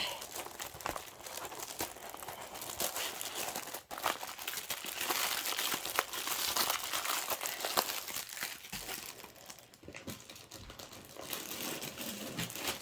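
A thin plastic bag is handled and crinkled continuously, with rustling and crackling, crisp and close, throughout, with brief pauses and a few sharper crunches.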